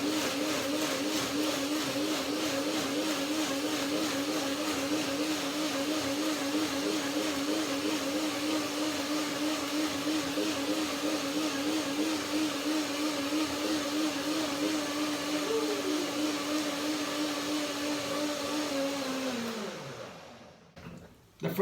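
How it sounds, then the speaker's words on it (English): A countertop blender runs a long continuous whir while breaking down cashew nuts into a cream, loud and close with a steady motor pitch that winds down sharply at the end, no talk. "The first blending breaks the nuts down."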